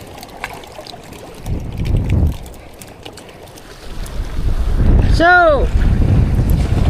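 Strong wind buffets a small fishing boat at sea, a steady roaring gust rising and falling under a brief word of speech, with a short whistle-like sweep near the end.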